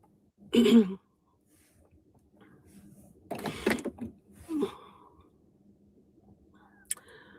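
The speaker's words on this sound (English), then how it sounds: "Let me blow my nose." A few short, breathy bursts of nose blowing, close and fairly quiet, separated by pauses, with a soft click near the end.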